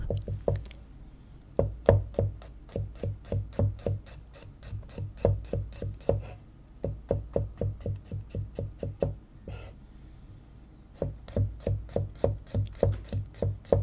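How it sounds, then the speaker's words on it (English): Garlic cloves are chopped with a knife on a wooden board in a close, quiet kitchen setting, producing rapid rhythmic knocking strokes in bursts with short pauses between them. "I chopped the garlic cloves."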